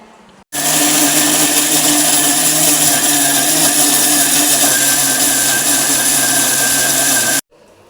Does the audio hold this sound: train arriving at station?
no